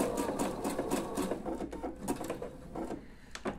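A sewing machine runs a zigzag stitch along a seam with a 1 cm allowance on a caraco top, a close rapid mechanical chatter in uneven bursts for a few seconds.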